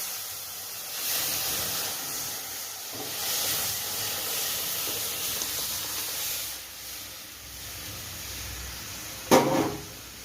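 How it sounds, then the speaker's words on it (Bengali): Lentils go into hot oil already tempered with cumin and dried chillies for a Bengali vegetable dal, giving a steady, broad sizzling hiss that swells and settles, ending with a brief utensil knock near the end. "এবার ঢেলে দেবো ডালটা।"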